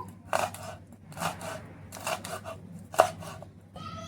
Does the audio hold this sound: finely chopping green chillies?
yes